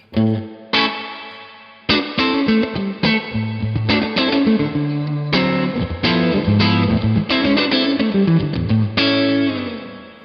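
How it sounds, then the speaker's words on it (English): Electric guitar played through a Universal Audio UAFX pedal set to spring reverb at about noon, ringing out a series of loud strummed chords and riffs with a lush, splashy decay, no voices. "spring reverb up at about 12 o'clock"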